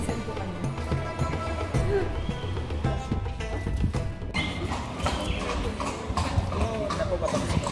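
Horse hooves clip-clop steadily on the rocky trail at Petra, Jordan, a near, continuous clatter mixed with crowd chatter and ambient noise, with an occasional whinny.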